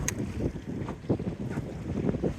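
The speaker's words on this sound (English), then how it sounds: "We finally got a bit of wind here." Steady wind rushes and buffets the microphone aboard a West Wight Potter sailboat in just under 10 knots of breeze, with a low, continuous roar and occasional gusty swells throughout.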